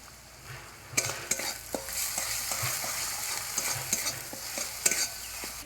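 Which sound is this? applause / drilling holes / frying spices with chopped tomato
frying spices with chopped tomato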